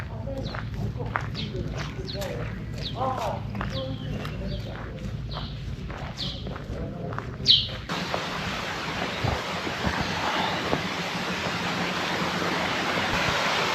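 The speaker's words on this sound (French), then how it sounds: "La petite cascade." Steady rushing water from a small waterfall along a temple path on Miyajima island, Japan, a broad even wash that takes over halfway through after a stretch of people talking and footsteps.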